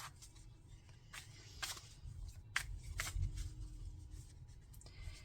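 Quiet, close rustling and soft riffling of a tarot deck being shuffled, in short irregular bursts with no voices.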